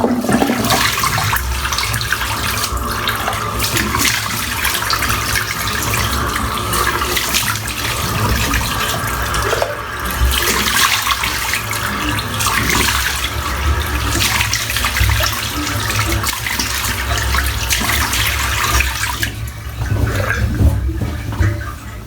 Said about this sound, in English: I'm actually having to empty the sink out because it's full of slickness